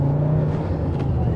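A 400 bhp Fiat Coupe's engine pulls hard under acceleration, a loud steady drone with a low rumbling tone heard from inside the car, continuous and unbroken.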